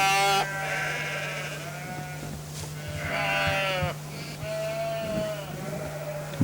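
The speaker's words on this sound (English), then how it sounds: "Beautiful pair of lambs there." Pair of newborn lambs, only minutes old, bleating during lambing beside the ewe; several wavering, high-pitched cries come one after another at close range, with a steady low hum underneath.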